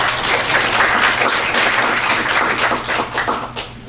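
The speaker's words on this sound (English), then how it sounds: "Let's give a round of applause to Jamie Toledo" A room full of people applauds, with dense clapping that holds steady and then thins out toward the end.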